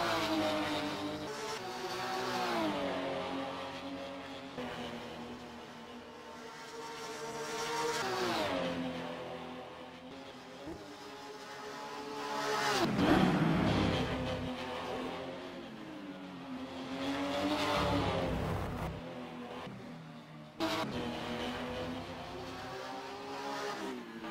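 A Porsche race car in the GSMF-Cup at Spa-Francorchamps running its in-lap, its engine droning loudly and continuously with repeated rising and falling revs through gear changes, heard at a distance.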